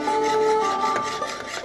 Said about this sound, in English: Keep scraping on the bottom.